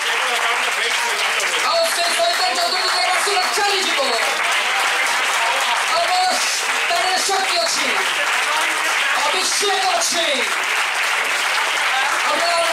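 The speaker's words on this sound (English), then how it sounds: "I know you haven't clapped your hands for a long time." A large audience at a church leadership meeting claps steadily and continuously, a dense wash of applause with scattered voices mixed in throughout.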